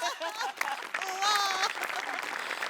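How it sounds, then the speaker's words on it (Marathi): Audience applause at a Marathi stage comedy show: a steady wash of clapping that runs the whole time, mixed with voices and tonal sound layered over it. "तर या जादूसाठी एकदा तुझ्यासाठी टाळ्या."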